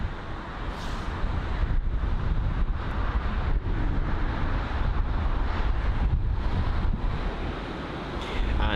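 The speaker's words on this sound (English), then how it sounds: "Seems as if the wind has calmed down a bit until it starts destroying us once again." Strong gusty wind at London Heathrow airport buffeting the microphone, a loud steady roar and rumble with surging gusts throughout.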